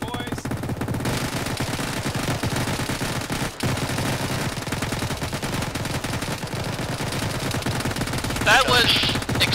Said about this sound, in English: Time to fire into the air, boys!